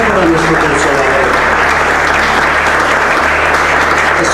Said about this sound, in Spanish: Un aplauso para nuestro Consolador.